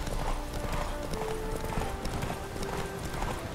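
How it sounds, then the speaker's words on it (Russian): Horse hooves clip-clop at a fast gallop during a race in the video game The Witcher 3, rapid and steady throughout, with a faint whinny over a busy background of game sound. "Лошадь скачет впереди меня."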